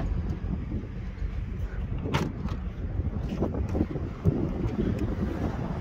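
Outdoors beside a 2023 Ford Transit passenger van, wind buffets the microphone with a steady, heavy low rumble and a few brief gusty bumps throughout, no voices on top.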